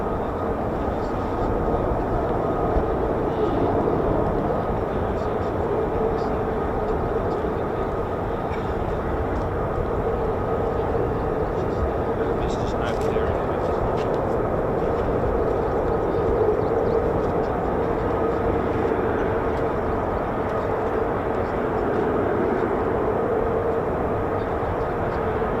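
An F-35 fighter jet on the runway at RAF Lakenheath, home of the US Air Force 48th Fighter Wing, gives a steady, distant engine roar that holds for the whole stretch, with a voice faintly talking over it.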